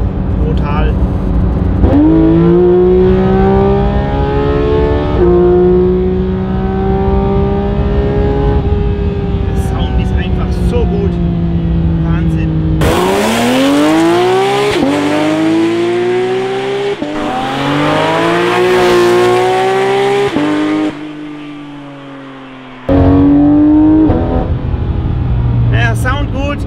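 Porsche GT3 RS with a naturally aspirated engine and Akrapovic exhaust revs hard through climbing gear pulls, loud and close, with a sharp shift break and speech-like voices partly mixed in.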